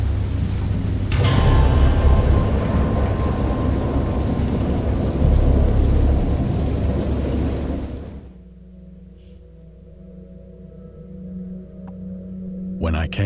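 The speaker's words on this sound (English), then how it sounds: "I heard pearls of thunder and other tones which nature utters only in her wildest moods" Heavy rain roars with rolling thunder in the video game Dagon, loud and continuous for about eight seconds before dropping to a quiet low hum with faint drips.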